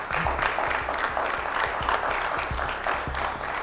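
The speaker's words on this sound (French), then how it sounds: "On n'est pas avare en applaudissements." Sustained clapping fills a television studio as the crowd greets a guest on a French show, a steady, fairly loud burst of applause with some murmuring voices underneath.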